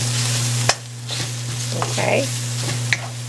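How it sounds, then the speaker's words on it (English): Tortilla strips sauteing in oil in a pan, crackling sizzle with sharp stirring knocks and scrapes, close up, and a person speaks briefly. "what I'm doing here is I'm sauteing my tortilla chips or my tortilla strips"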